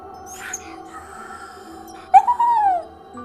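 A spectral dog, the cadejo of a horror tale, gives a soft, wavering whimper: one brief rising-then-falling whine near the end, over a low, eerie sustained background.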